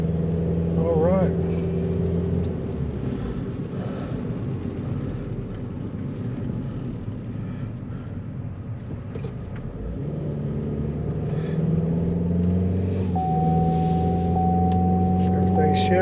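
A Chevy Spark with a coil problem drives along, its engine rumbling steadily with rising and falling tones as it accelerates and shifts through gears toward about 35 mph, heard from inside the cabin.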